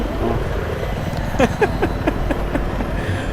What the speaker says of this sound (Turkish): Bu helikopteri hiç sevmiyorum ben.